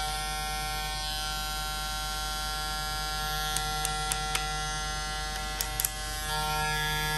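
A Super V SC-1000 electric hair clipper buzzes continuously and loudly, with a few brief clicks and a slight rise in pitch near the end.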